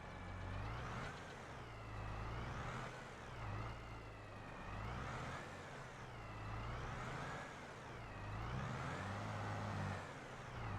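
A tractor in Farming Simulator 22 grinds through a slow reverse, its engine a loud steady diesel drone that rises and falls in repeating waves as it maneuvers back and forth.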